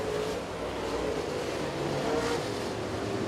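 Race cars roar around the Oakshade oval track during a heat race, producing a steady, loud blended engine drone with slight swells as cars pass.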